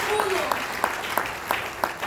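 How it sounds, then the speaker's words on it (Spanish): A church congregation claps during a worship service, with steady rhythmic claps over a dense wash of crowd noise while voices carry through. "Denle un aplauso al Señor."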